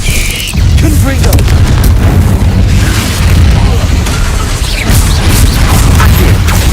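Booming spell explosion from the Confringo curse in the Hogwarts Legacy video game, loud and dense with continuous low rumbling blasts and crashes layered over battle noise, with voices present.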